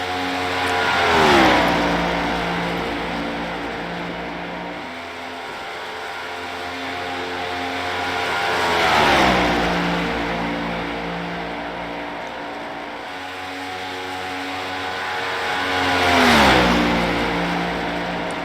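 A race car engine laps Atlanta Motor Speedway during a first qualifying lap with the tires still warming, with loud, sustained engine drone that swells and recedes three times in a regular rhythm as the car circles the track.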